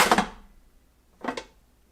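A food pusher is pulled out of the feed tube of a Cuisinart FP-8SV Elemental 8-cup food processor, making two short plastic scrapes and clunks about a second apart, close and fairly quiet, with no talk.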